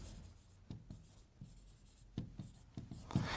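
A pen writing out an equation on paper: soft scratching strokes with irregular taps, close and faint, with no talking.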